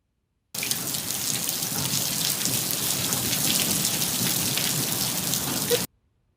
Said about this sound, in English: Look at that hail coming down today.